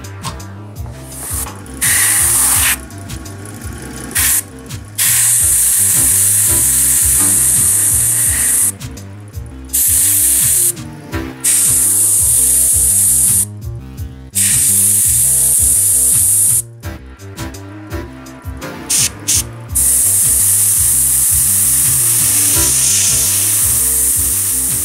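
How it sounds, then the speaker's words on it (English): An airbrush hisses out yellow paint onto an Ork Bomma model in loud bursts of spray, starting and stopping repeatedly with short pauses, close-up with a low mechanical hum from the compressor underneath. "I'm gonna airbrush in back some yellow in some of these areas"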